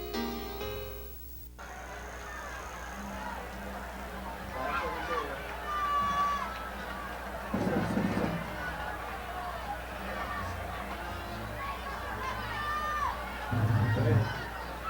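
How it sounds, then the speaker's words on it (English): Large sellout crowd in the stands at a high school football game between Bethel and Hampton at Darling Stadium, a steady murmur of babble and scattered shouts, with bursts of cheering, under a commentator's talk. "a large crowd on hand, a sellout crowd undoubtedly"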